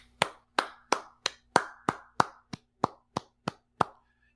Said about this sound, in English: Let me start a clap for Dolph Ziggler.